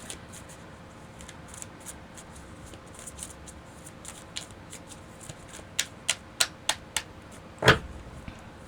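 Tarot cards are laid out one by one on a surface. Soft shuffling and sliding comes first, then a run of distinct close-up snaps and taps as the cards are set down. One louder slap follows near the end.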